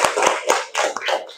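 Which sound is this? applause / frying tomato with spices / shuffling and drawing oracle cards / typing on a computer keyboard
applause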